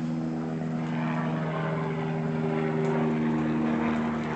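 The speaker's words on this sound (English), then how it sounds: "Helicopter." A helicopter passes overhead outside an apartment complex, a steady droning rotor and engine hum that swells slightly, fairly faint and distant, with no talk.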